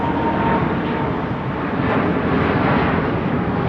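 A Virgin Atlantic Airbus A330-900 airliner takes off at London Heathrow, a loud, broad, steady engine roar filling the whole stretch without pause.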